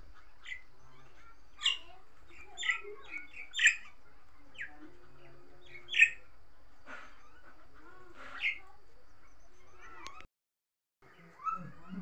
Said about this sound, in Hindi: तो इनको बोलते हैं मैना जो पक्षी होते हैं